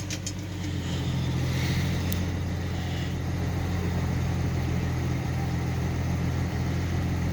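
A truck engine idles steadily and quietly after a cold start, a low, even mechanical hum with a faint ticking texture, continuing without change after a brief start.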